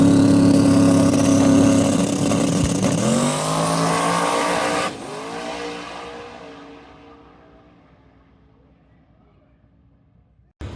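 Drag race car making a pass at Byron dragstrip, a loud roaring engine run that builds, shifts through gears with a tire-shake stutter, then fades into the distance as the car finishes.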